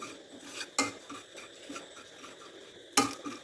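Sugar cooking in a pan over a very low gas flame for caramel, heard as soft stirring scrapes and rubbing, with two sharp clinks of a utensil striking the pan.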